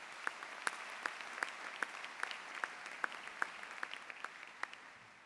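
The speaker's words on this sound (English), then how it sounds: "So please give them all a round of applause." Sparse, quiet applause at a law school commencement ceremony, individual hand claps standing out in an irregular patter against a soft, distant crowd background.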